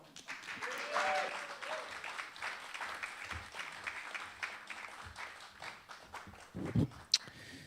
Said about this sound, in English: put a little extra love energy and chutzpah into your applause